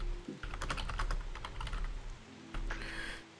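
Rapid clattering keystrokes on a computer keyboard, loud and close, forming an irregular run of clicks with a short pause partway through.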